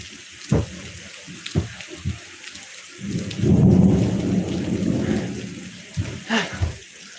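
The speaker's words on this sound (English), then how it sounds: "Now that's a thunderstorm." A thunderstorm with heavy rain hisses steadily while a deep, loud rumble of thunder swells and rolls for a few seconds, and sharp cracks and knocks sound before and after it.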